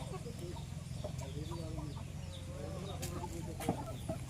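Large country-breed chickens clucking steadily at close range in a farmyard, with overlapping calls over a constant low background hum.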